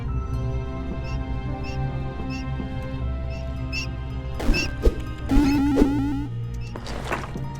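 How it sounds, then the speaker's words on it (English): Rats scurry through a dungeon in the game Barony: faint, quick squeaks and patters over a steady droning game ambience, with a couple of sharp knocks and a brief clatter near the end. "I'm amazed that rats are still running around"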